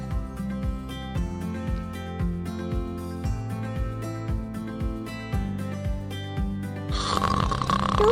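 Person snoring in a slow repeating rhythm, the breaths sitting under a looping background melody of music.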